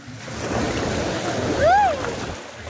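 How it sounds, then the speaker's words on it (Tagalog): Surf at Boracay beach in the Philippines rolls and washes continuously as the waves grow stronger, loud and close, with a brief rising tonal whine riding over the water near the end. "Lumalakas na yung alon."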